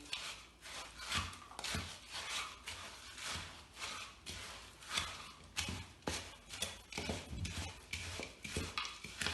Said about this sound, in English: So just keep turning the mixture, turning the spoon around and making sure that everything is turning chocolatey